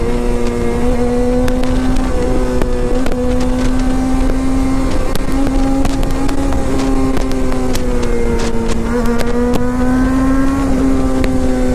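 A motorbike engine held in first gear on a mountain road gives a loud, steady buzzing drone with slight rises and dips in pitch throughout, close to the listener, with no one talking.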